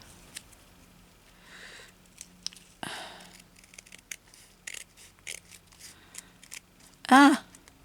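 Scissors snipping as a piece is trimmed for a homemade journal, with scattered soft cuts and paper handling, and a voice speaking briefly near the end.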